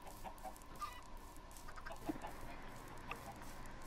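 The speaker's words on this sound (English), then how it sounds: "Where is the chicken?" A Minecraft chicken clucks in short, repeated bursts over a game background, with a few brief sharper sounds between the clucks.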